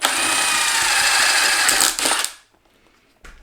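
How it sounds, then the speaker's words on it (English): Power drill boring a hole through a panel while fitting a breather on VF Commodore custom headlights, a loud steady high-pitched whine for about two seconds that cuts off, followed by a brief clunk. "when we drill our hole"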